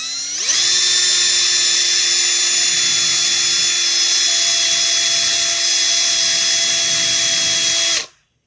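A 1/4-inch double-cut carbide burr deburrs a piece of aluminum bar, producing a loud, steady high-pitched rotary whine that spins up quickly, holds for several seconds, then cuts off abruptly.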